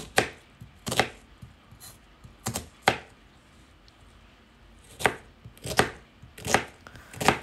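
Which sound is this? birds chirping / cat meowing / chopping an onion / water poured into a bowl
chopping an onion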